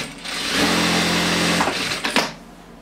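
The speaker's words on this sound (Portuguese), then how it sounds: "uma costurinha reta, no comprimento 3, arremate simples, não é duplo, e arremate simples no final com condensado" A Jack A4E industrial sewing machine runs a straight stitch at length 3 with simple backtacks: a steady, close motor whir lasts about a second, followed by a few short bursts as the seam finishes.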